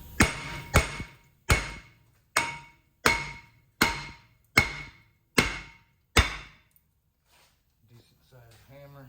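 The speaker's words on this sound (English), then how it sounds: "In order to get the rotor off, you'll have to hit it with a hammer." A hammer strikes the front brake rotor of a 2011 Lexus ES350 nine times in a steady rhythm, each blow a loud, ringing metallic clang that fades before the next, followed by brief quiet and a faint voice.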